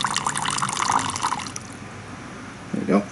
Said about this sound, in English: some water to her enclosure here